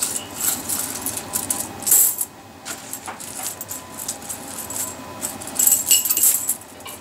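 Coins clink and rattle as they drop into a pig-shaped piggy bank, a run of bright metallic jingles with a few louder clusters of falling change, close by and with no talking.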